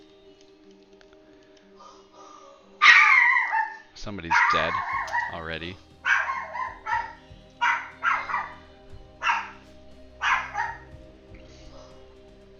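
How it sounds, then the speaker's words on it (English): Dogs barking in a house at workers repairing broken solar panels, a sudden burst followed by a run of sharp, loud barks at irregular intervals, with a person briefly talking. "my dogs are barking at them"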